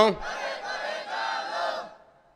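Crowd of men at a Bangla religious gathering shouting a devotional slogan together in unison, a loud sustained group call lasting under two seconds before fading.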